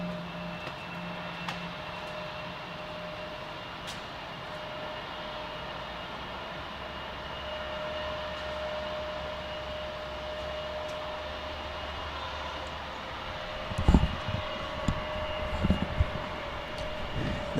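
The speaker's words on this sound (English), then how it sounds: "I didn't miss the JetBlue departure" A JetBlue airliner departs Salt Lake City airport as a distant, steady jet rumble and whine that persists for the whole stretch, joined near the end by a few sharp nearby knocks.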